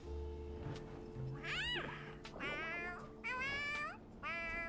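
A small creature in the video game Honkai: Star Rail gives several rising, whiny meows in a row, close and fairly loud, with short pauses between calls and a low hum underneath.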